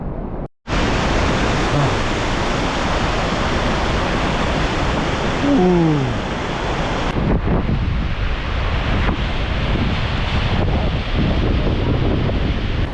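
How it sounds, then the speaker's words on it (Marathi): Devkund waterfall in Tamhini Ghat roars as a dense, continuous rush of falling water, loud and steady throughout, with wind buffeting the microphone and a brief faint sound near the middle. "पहिलं दर्शन झालंय धबधब्याचं"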